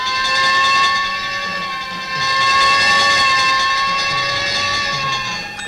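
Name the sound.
fire engine going past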